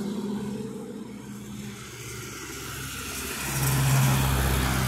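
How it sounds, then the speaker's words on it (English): A Mini car driving by on a road, engine and tyre noise swelling gradually to a louder pass near the end. "Got a Mini."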